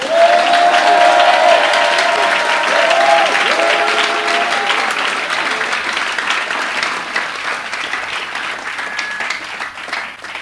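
A church congregation breaks into loud sustained applause with some cheering, the clapping dense at first and gradually thinning and fading over about ten seconds.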